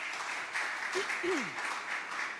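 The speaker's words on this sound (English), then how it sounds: "Let's give them another round of applause, please." Audience applause at a short leadership talk, a steady, moderately soft wash of many hands clapping across the whole stretch, with a faint voice-like tone sliding briefly through the middle.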